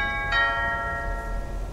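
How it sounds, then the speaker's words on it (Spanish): Doorbell in the video game LAKE, a single clear chime struck once that rings out and slowly fades over a quiet background. "A ver, tocar el timbre."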